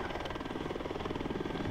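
Helicopter in the video game ArmA 3, its rotor thumping in a steady rapid pulse over a continuous engine drone, close and even in level throughout.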